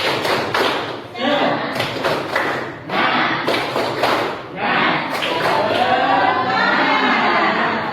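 A class of schoolchildren claps a rhythmic 'tepuk semangat' pattern, bursts of sharp claps grouped in beats with chanting voices between them, loud and close, ending in a sustained burst of clapping and cheering.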